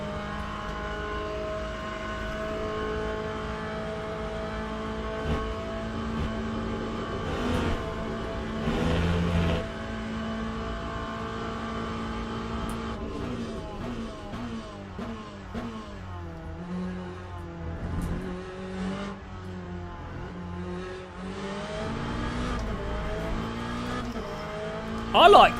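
Car engine in a sim-racing video game, a thin, buzzy drone that some liken to a refrigerator hum, shifting pitch steadily with brief revs and a tire-squeal burst near the end, running continuously under occasional talk.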